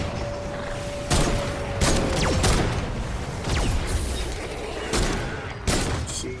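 Wall dart traps in Fortnite Save the World fire in a Category 3 storm defense, a steady game-ambient bed broken by several sharp, loud bursts of rapid dart fire at irregular intervals, with no talking.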